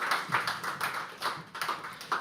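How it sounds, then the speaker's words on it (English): Sparse, soft claps from a small audience at a poetry open mic land in an uneven rhythm, faint and close, with no talk over them. "If you feel like clapping, clap."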